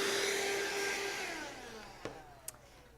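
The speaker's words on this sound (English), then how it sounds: "I'm just going to vacuum them up too" A vacuum cleaner picks up fabric dust left from cutting quilt strips, a steady close whine that slowly fades, with a couple of small clicks near the end.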